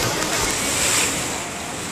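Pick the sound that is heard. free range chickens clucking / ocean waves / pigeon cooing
ocean waves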